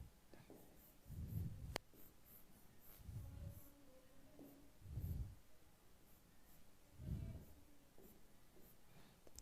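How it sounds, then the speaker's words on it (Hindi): Pen writing by hand on paper, four quiet bursts of scratching strokes separated by pauses, close and soft in an otherwise still room. "और यहां लिख देता हूं"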